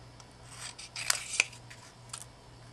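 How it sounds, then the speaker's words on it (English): Scissors snip through a paper cutout for a chili pepper craft, giving a few quiet, close crisp cuts clustered in the middle with light rustling of paper around them. "and then we'll cut this piece out."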